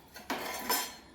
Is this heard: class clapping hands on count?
no